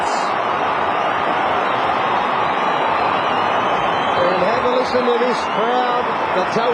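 Huge stadium crowd roaring at a 2003 AFL match between Essendon and West Coast at Telstra Dome, a loud continuous wall of noise that holds steady throughout, with a commentator's voice rising over it.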